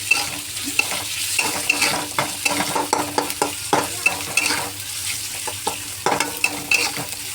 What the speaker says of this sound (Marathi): कोबी आपण आता चांगला भाजून घेऊया.